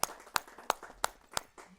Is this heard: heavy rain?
no